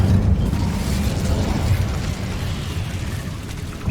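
A roaring, crackling burst of flame from the Incendio fire spell in Hogwarts Legacy, loud and dense throughout the few seconds.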